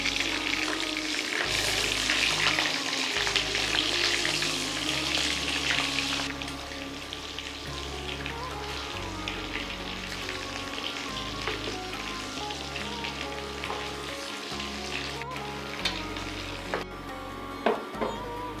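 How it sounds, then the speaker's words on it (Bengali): Shrimp frying in hot white oil and ghee in a wok, with a loud continuous crackling sizzle that eases slightly partway through, plus light stirring clinks. "তেল ও ঘি গরম হলে তাতে মিনিট ৩ ভেজে তুলুন চিংড়ি মাছ।"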